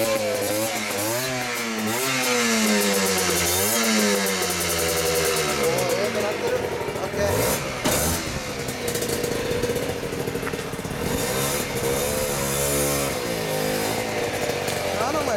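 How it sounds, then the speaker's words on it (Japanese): A 1988 Honda NSR50 two-stroke fitted with an ETHOS expansion-chamber exhaust starts and revs hard, its buzzy rising and falling pitch sweeps loud and close throughout, with voices faintly underneath. "オッケー、エンジンかけさせて。"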